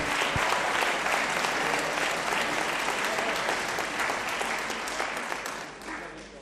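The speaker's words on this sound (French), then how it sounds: "vous pouvez l'applaudir" A meeting audience in Bessan applauds a woman on her birthday, sustained, even clapping from many hands that thins out and fades over the final second.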